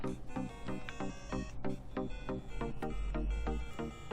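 An Atomic Purple Nintendo Game Boy Color boots up with a bright electronic startup chime. Sharp, evenly spaced tonal hits repeat steadily throughout, loud and close, with no voices.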